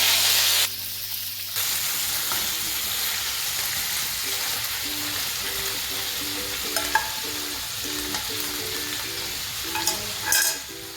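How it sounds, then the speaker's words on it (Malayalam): Loud, steady sizzling of chicken frying in a pan over high heat, close up, with occasional stirring scrapes and faint tones in the background. "തീ കൂട്ടി വെച്ചിട്ട് നമുക്ക് ഇതൊന്ന് നന്നായിട്ട് ഫ്രൈ ചെയ്തെടുക്കാം"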